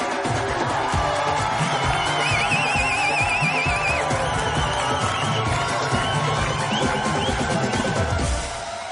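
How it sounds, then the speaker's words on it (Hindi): A television comedy studio audience claps and cheers in a dense, continuous roar that holds steady for several seconds before easing off at the end, with a shrill whistle or shout rising above it. "जोरदार तालियां।"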